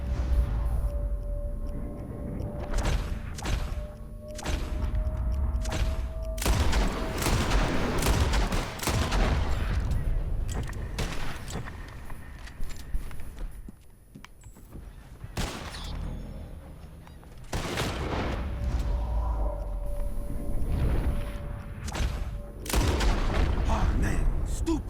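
Repeated rifle shots crack out at flying birds during a Red Dead Redemption 2 hunt, several loud sharp reports spaced irregularly with short volleys, set against outdoor ambience while people talk between shots.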